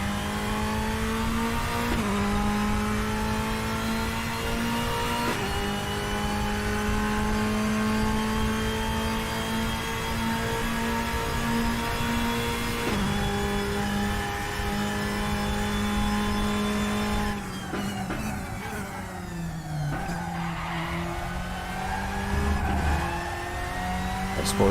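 Ferrari 488 GT3 Evo racing engine in RaceRoom's GTR3 class, a steady loud high-revving drone with sharp gear-change drops and rises throughout, tire scrub and a brief rougher downshift patch near the end, no talking.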